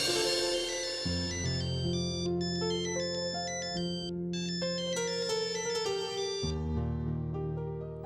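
A melodic electronic telephone ringtone in a Hindi TV drama plays loud and continuous, a repeating tune over a steady synth bass, with no speech.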